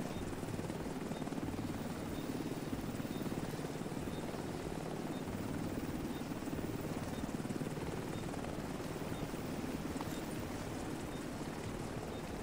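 A helicopter in The Division 2 video game drones steadily throughout, a continuous loud rotor and engine roar with no clear break, with faint talk at most.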